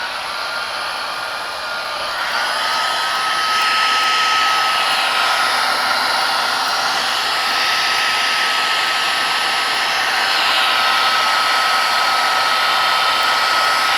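A hair dryer blows steadily and loudly at close range to dry wet paint and gesso on a painted piece, a continuous whooshing drone with no pauses or talk.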